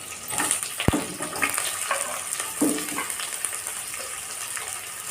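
Onion, green chillies and curry leaves frying in hot oil for a spicy okra stir-fry, with a continuous close sizzle and a few stirring scrapes, including one sharp clack early on.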